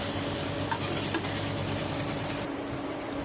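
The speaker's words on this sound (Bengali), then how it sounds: "দিয়ে আবার ভালো করে কষিয়ে নেবো নাড়িয়ে চালিয়ে।" Mutton curry sizzles in hot oil in a pan while it is stirred and scraped. The frying hiss is steady and close, with occasional clinks from the spatula.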